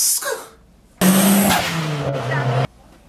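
A turbocharged car engine with a small displacement revs loudly up close in one sustained burst, with a short engine sound at the start and a brief pause before it.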